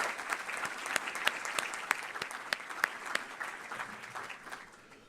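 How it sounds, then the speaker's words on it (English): Lecture audience gives a round of applause for event sponsors and supporters, a moderate crowd of individual claps with distinct sharp hand strikes standing out over the steady patter, fairly distant and even. "Round of applause for all of our sponsors, supporters, and for all of you for being here."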